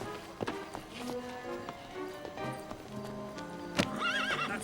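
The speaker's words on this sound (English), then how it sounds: "That's my horse." A horse gives a loud, wavering neigh near the end after a run of hooves clip-clopping at a walking pace, all fairly faint against a busy animated-adventure backdrop.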